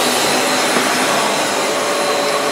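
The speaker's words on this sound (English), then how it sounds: "And then you'll hear the vacuum cleaner go on." A vacuum cleaner hooked up to a sandblasting cabinet runs at full power, producing a loud, steady, broadband roar that holds constant throughout with no voices.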